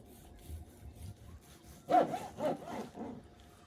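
A knife slices through tender smoked brisket that was wrapped in butcher paper, making a few soft, rasping sawing strokes close by after a quiet start.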